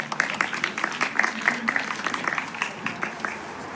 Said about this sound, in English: Please give a round of applause for Susan